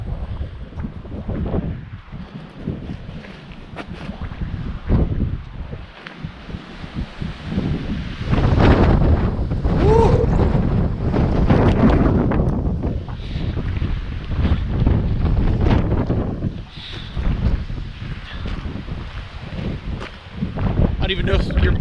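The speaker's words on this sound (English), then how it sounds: "It is windy." Strong wind buffeting a microphone fitted with a furry windscreen on an Arizona road trip, rough gusty roar surging and easing throughout, with occasional faint voices underneath.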